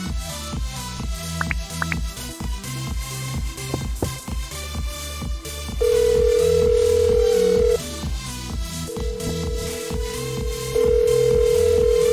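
A telephone rings for an incoming call on a live show, heard as a steady electronic tone that sounds in two long stretches over a busy background bed.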